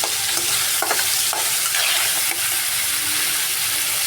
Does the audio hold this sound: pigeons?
no